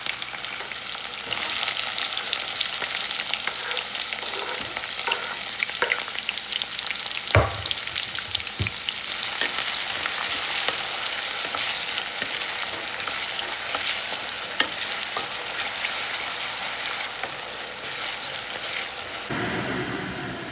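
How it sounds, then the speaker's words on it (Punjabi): Green chili and onion sizzle and fry steadily in hot oil with cumin seeds, a dense continuous crackle with occasional stirring knocks, close and without talk. "ਜੀਰਾ ਆਪਣਾ ਗਰਮ ਹੋ ਗਿਆ ਤੇ ਆਪਾਂ ਇਹ ਚ ਪਾਵਾਂਗੇ ਹੁਣ ਆਪਣਾ ਹਰੀ ਮਿਰਚ ਤੇ ਪਿਆਜ਼"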